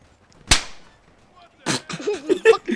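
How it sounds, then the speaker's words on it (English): A single sharp gunshot cracks loudly in Grand Theft Auto 5 gameplay during a military mission, followed after a pause by a burst of shorter shots mixed with game sounds and a voice. "Don't get in my way in my gunfire, private!"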